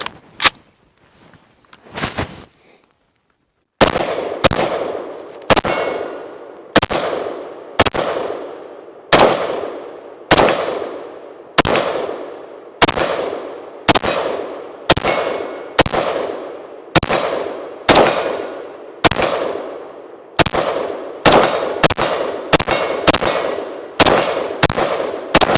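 Sig SG 552 rifle fired at steel targets: after a short pause, a long series of loud, evenly spaced single shots, each with a ringing echo, quickening toward the end.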